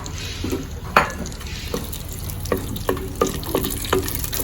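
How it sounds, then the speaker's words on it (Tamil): Oil sizzling in a pan as whole spices (cinnamon, cloves, cardamom, mace, star anise) temper for biryani, with scattered clinks and stirring scrapes, a steady crackle underneath, close and moderately loud. "பட்டை லவங்கம் ஏலக்காய் அப்புறம் இது என்ன ஜாதி அன்னாசி அன்னாசி பூ இதெல்லாம் ஒன்றா தாளிக்கிறதுக்கு"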